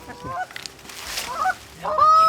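Canada geese honking during a goose hunt, several loud nasal honks from birds overhead, irregular and close, the last call drawn out.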